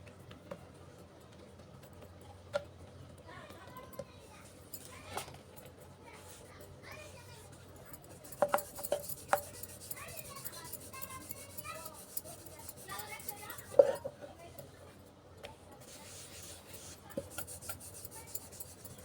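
A rolling pin works paratha dough on a board, giving soft rasping, rubbing strokes that stay faint and low, with scattered light ticks and children's voices in the background.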